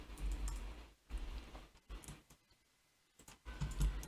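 Soft, quiet computer keyboard typing while using Autodesk Revit, in irregular clusters of clicks, with short pauses between bursts of keystrokes.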